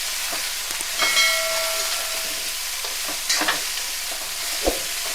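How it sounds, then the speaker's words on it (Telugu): Onions and mixed vegetables fry in a hot pan for fish fried rice in a home kitchen, with a steady sizzle and a few scrapes and clinks of stirring. "ఇదిగోండి ఆనియన్స్ కూడా వేసేస్తున్నాను. ఇవన్నీ కూడా వేగాలి మనకి బాగానే."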